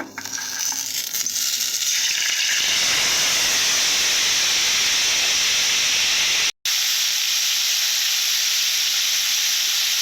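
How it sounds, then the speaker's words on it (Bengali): Cut potatoes frying in hot oil for a potato and okra curry give off a loud, steady broadband hiss that briefly drops out once partway through. "গরম করে নিয়েছি তেল নেওয়ার পর আলুগুলো ভেজে নেব"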